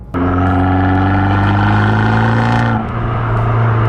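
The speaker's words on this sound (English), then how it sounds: "This is what the exhaust sounds like again." A car fitted with an Akrapovic exhaust, a cabriolet with the hood up, drives past loud and close, its steady deep engine note droning evenly before a brief dip in tone near the end.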